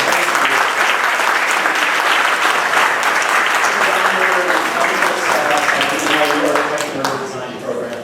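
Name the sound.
audience applause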